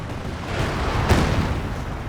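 Artillery shells bursting in a Company of Heroes 2 battle, a dense rumbling barrage of low booms with one sharper blast near the middle, continuous and loud without any talk.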